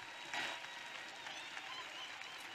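Church congregation clapping for Jesus during a service, a steady wash of applause from a crowd, fairly distant and moderate in level, with a brief louder burst near the start.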